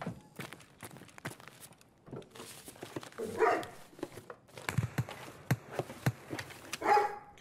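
Dogs bark in a video game shooter set in dorm buildings, short sharp barks spaced irregularly at a moderate distance, mixed with thuds and other scattered game noises.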